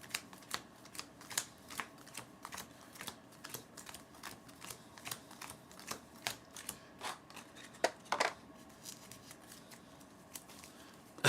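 Playing cards are shuffled repeatedly, a quick series of crisp riffling snaps and taps, close and fairly quiet with no talking.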